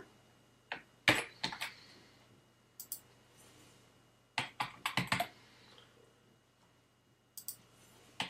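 Computer keyboard keys typed in short irregular bursts of clicks, an address being entered into an online Google form, close and fairly quiet with pauses between bursts.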